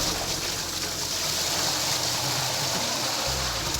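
Water pours into large pots for steaming chicken, producing a loud, continuous hissing gush that fills the whole stretch with no speech on top.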